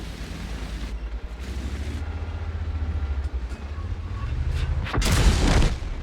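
Tank cannon shots boom in a video game, with heavy rumbling engine drone underneath and a couple of muffled reports followed by a loud, close blast near the end, the low roar sustained throughout.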